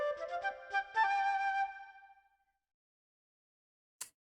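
A short melodic run of flute notes from the Macintosh computer game Lamb Chop Loves Music, clear and fairly close, fading out after a couple of seconds into silence, with a faint click at the end.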